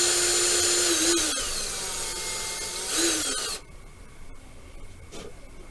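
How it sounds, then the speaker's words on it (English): A power drill bores a hole in a small plastic part from an MPC Star Wars X-Wing Fighter model kit, whining in short bursts up close, with quiet scraping afterward and no talk. "look how fast it's drilling that hole"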